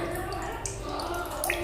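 Holy water drips from a soaked brass cow idol, with faint, scattered little drops and trickles over a quiet room hum.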